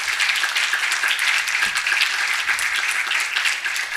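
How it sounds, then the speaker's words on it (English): Sustained applause from a conference audience at a ports event, dense steady clapping filling the whole stretch at an even, loud level with no break. "we kindly ask the panelists first, the audience, for a huge applause to the panelists and Doru"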